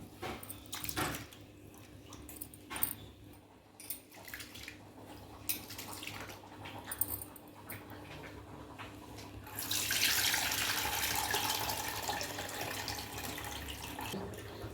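Water is poured into a pressure cooker holding half a kilo of rice for sambar, a steady splashing pour in the second half following quieter kitchen clatter.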